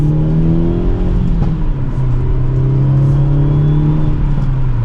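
A 2023 Hyundai Elantra N with a manual gearbox accelerates hard in second gear, its loud engine note climbing steadily from inside the cabin over road rumble.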